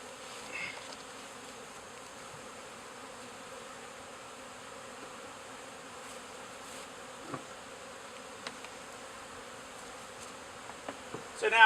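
Bees hum and buzz around an open hive during feeding, a soft, steady swarm drone close by with occasional louder passes and small clicks near the end.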